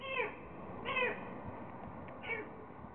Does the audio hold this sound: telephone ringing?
no